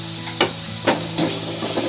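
Steady sizzling of chopped capsicum frying in a pan for pav bhaji, with a few soft scraping stirs at intervals, close up and without talk.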